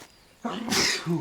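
A dog gives one short, sharp sneeze up close after sniffing a fish and bull-testicle kebab being grilled outdoors, with faint background noise around it.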